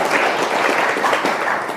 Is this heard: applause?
yes